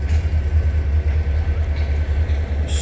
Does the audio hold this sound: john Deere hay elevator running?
no